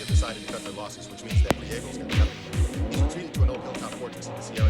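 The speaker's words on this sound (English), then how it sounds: "It's just a video of the muffler, and the car just keeps revving its engine." A car engine revving hard as it plays back from a video, heard as a series of loud, punchy throttle blips in quick rhythm, with squealing tire-like noise over the top.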